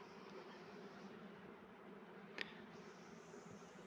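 Carniolan honey bees buzz at an open hive, a soft, steady drone that holds evenly throughout, with one brief click partway through.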